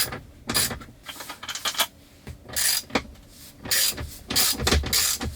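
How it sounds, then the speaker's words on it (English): A ratchet removes 10mm screws from a Tesla Model 3/Y screen mount, with bursts of close, crisp clicking in short runs separated by quiet pauses. "There's two 10mm screws that we have to get out."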